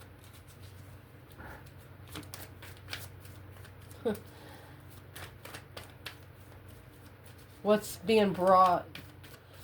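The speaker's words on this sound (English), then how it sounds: "For some reason, we just picked up a third bundle, so we're just going to shuffle it in here." Tarot cards being shuffled by hand as a third bundle is mixed in, with soft papery riffles and taps scattered through a quiet room, followed by a burst of brisker shuffling near the end under a quiet voice.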